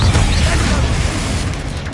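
A Confringo fire spell blasts in the video game Hogwarts Legacy. A loud, dense, rumbling burst of fiery noise fills the whole short moment.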